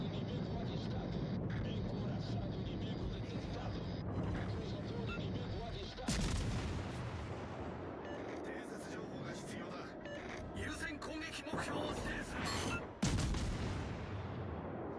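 Ship guns fire in a naval battle video game, with heavy booms rolling out amid continuous rumble and someone talking over the action; the sharpest blasts land near the middle and toward the end.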